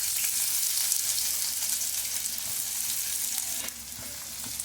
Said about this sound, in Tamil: இதில் நம்ம ஸ்லைஸ் பண்ணி வச்சுருக்க ஆனியனை போட்டு ஃப்ரை பண்ணிடலாம்.